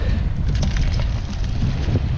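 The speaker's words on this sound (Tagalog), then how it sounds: "Lumalakas na yung hangin." Strong wind rushes and buffets the microphone in a loud, constant roar with no voices.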